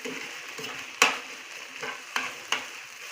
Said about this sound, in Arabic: غنشحر البصله